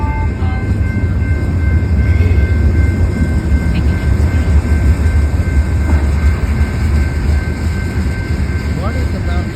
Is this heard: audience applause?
no